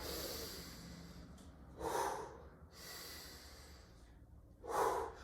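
Heavy, forceful exhalations during a strength workout, two loud breathy bursts a few seconds apart over a quieter hissing background.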